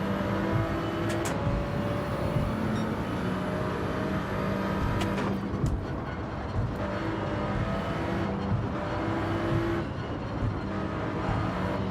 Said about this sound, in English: BMW's acceleration